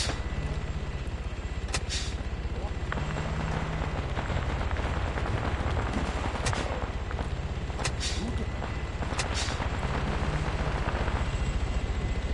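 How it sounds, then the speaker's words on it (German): Helicopter flying directly overhead in a video game, a loud, steady rotor roar that fills the whole stretch, broken by a few sharp bangs like gunfire. "Helikopter genau über uns, scheiße."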